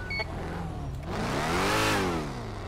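A Nissan GTR R35 in GTA 5 revs up, its engine note rising and falling in one smooth sweep over about a second, fairly loud and alone.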